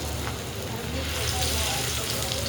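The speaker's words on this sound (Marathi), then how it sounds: "तेलात एक एक करून मासे सोडून घेऊया आपण." Fish frying in hot oil with curry leaves, a steady dense sizzle and crackle running evenly throughout at close range, with a faint voice murmuring beneath.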